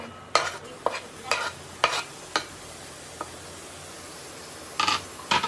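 Tomato sizzling in a pan while a spoon stirs it in short, separate bursts of scraping over a faint continuous hiss, close and with no talk.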